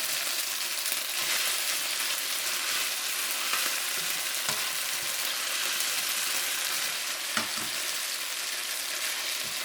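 Bulgogi beef cooking in a pan over medium heat, with a continuous loud sizzle and frying crackle throughout, close up, with occasional faint stirring clicks and no voices.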